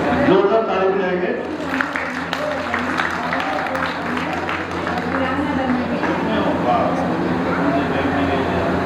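Children clap loudly together at a free summer camp held at Arya Samaj, Kalka Ji, producing dense, sustained applause throughout with voices mingled in the background.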